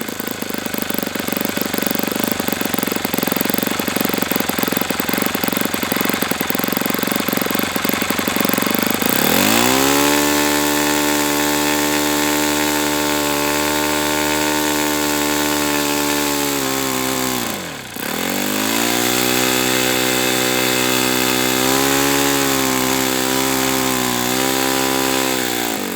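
An RCV 91 CD model engine runs steadily at high speed with its high-speed needle richened, a loud continuous buzzing drone that briefly dips and recovers.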